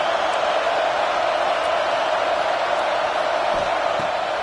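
A stadium crowd roars in the NCAA 26 college football video game, Auburn fans on third down: a loud, steady wash of cheering that holds without a break, with no clear talk on top.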